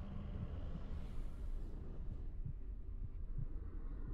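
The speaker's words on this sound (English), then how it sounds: "What heartbeat am I hearing right now?" A low, steady throbbing heartbeat pulses through game audio in a PC game, muffled and continuous beneath a dark ambient hum, with soft thumps recurring across the few seconds.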